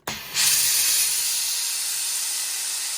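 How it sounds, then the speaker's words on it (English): A steam iron blasts a steady, loud hiss of steam from its nozzle; the jet starts abruptly after a short pause and keeps going without a break. "it's got full power steam when you hold this little nozzle here. It just comes out like this"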